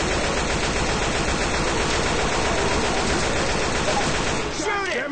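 Sustained automatic gunfire pouring into the Tank in Left 4 Dead 2, a dense, loud rattle of rapid shots that barely lets up, easing slightly near the end.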